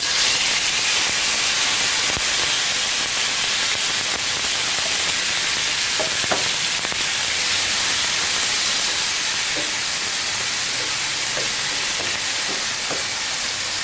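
Tomatoes sizzle and hiss steadily in a hot pan while a tomato chutney cooks, a continuous loud frying hiss lasting throughout with a few faint clinks, no talking.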